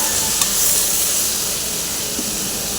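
Eggplant pieces sizzle loudly in a hot pan while being stirred, a dense continuous frying hiss close up with a faint scrape of the spoon.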